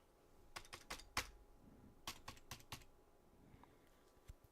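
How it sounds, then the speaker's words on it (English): Bursts of typing on a computer keyboard, quiet and close, come in short clusters of a few keystrokes separated by pauses, with no talking. "My keyboard is really not working well."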